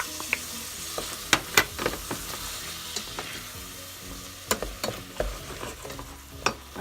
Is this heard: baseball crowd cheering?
no